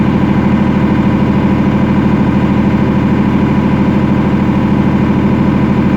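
A Perkins diesel generator engine runs with no load at a steady, loud idle, its low rhythmic throb holding constant throughout with no voices.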